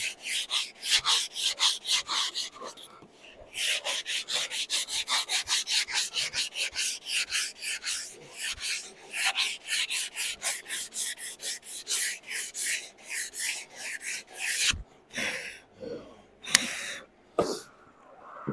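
Rhythmic back-and-forth sanding strokes on a live-edge wooden serving board as its edges are rounded over, loud and close, with brief pauses, a few coughs and a bump near the end.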